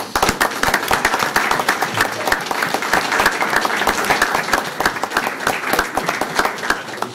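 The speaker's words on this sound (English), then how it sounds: "let's give a round of applause for their principals and their parents" Audience applause at a board of education meeting, many hands clapping densely and steadily throughout, loud and close with no talk over it.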